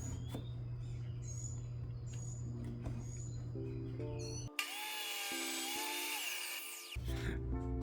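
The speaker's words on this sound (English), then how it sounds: "We're going to go ahead and cut this flat" A power tool cuts a wooden push stick flat in a workshop, a steady high whine running for a few seconds between lower motor hum and clatter, loud and close.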